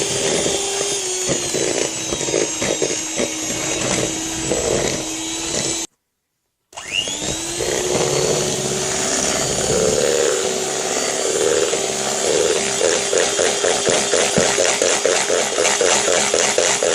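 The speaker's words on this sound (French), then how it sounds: "On vient prendre obligatoirement un batteur électrique." An electric hand mixer whirs steadily as it beats cupcake batter, a loud buzzing drone with rhythmic pulses from the beaters, briefly cut to silence before resuming at full volume.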